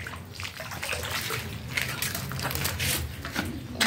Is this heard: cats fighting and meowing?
no